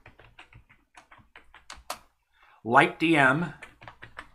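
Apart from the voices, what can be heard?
typing a terminal command on a computer keyboard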